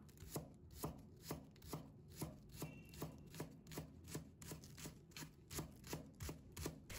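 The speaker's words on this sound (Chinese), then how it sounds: "把葱白切成葱花" Knife rapidly chopping scallion whites into small rings on a cutting board, a steady run of crisp, evenly spaced taps up close with no talking.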